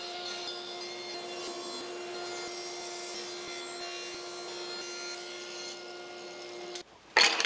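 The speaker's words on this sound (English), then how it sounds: "if you think that was a lot of table sawing" Table saw ripping wood slats into thin strips, a steady continuous whine of the blade in the wood lasting several seconds, then a brief pause and a sharper burst at the end.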